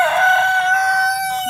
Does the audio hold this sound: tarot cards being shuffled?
no